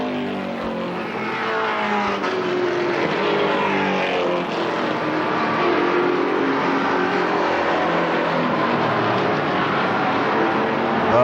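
Stock cars roar around Winchester Speedway, a short oval track, in a dense, continuous engine drone with shifting revving tones as the field circles, loud and steady throughout.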